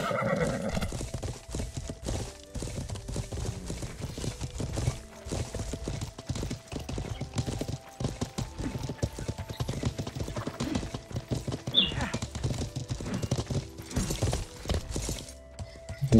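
Horse hooves gallop in a video game battle with mounted riders and archers, a rapid, continuous clip-clop under game music and clashing noise. The hoofbeats stay dense and fairly close throughout, and a horse whinnies.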